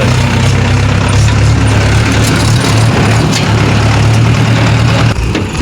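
A tractor engine runs loud and steady at close range while the tractor is being loaded, a continuous low drone that dips slightly near the end, with no one talking.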